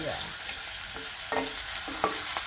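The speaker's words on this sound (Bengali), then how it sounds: "চাকতল ভাজা" Young ash gourd pieces frying in a wok, a steady sizzle with occasional stirring scrapes, close and continuous without speech.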